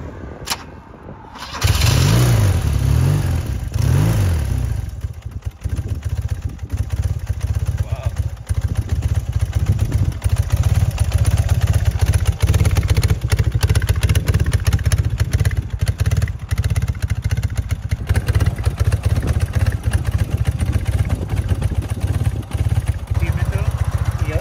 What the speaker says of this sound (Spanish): Así se arranca una moto en